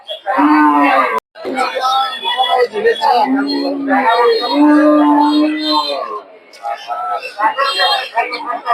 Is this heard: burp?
no